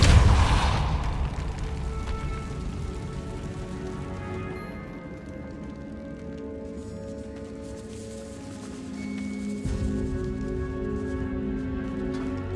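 Spell blasts from the Incendio and Depulso spells in the video game Hogwarts Legacy, set in a decayed catacomb, open with a loud booming burst that fades into a sustained crackling, rain-like hiss over a low musical ambience.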